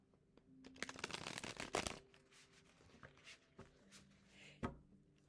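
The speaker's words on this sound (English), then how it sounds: "Really easy to shuffle these." Tarot cards are shuffled by hand in a quick riffling burst that peaks, then softer slides and taps of the deck follow, close and fairly quiet.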